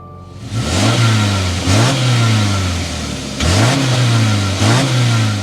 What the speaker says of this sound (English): start up this boxer 4 so you can hear that exhaust note